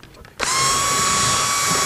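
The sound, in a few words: power drill enlarging holes in wood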